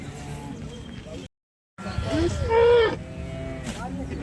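A cow moos loudly nearby with a long, drawn-out low call, amid background chatter and livestock noise at the Sangola cattle market.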